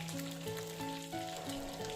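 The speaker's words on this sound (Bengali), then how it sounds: "তড়কার জন্য একটি ছোট প্যানে ঘি নিয়ে নিতে হবে" Ghee sizzles steadily in a small pan while a tadka is prepared, a soft continuous hiss heard under a melodic music track.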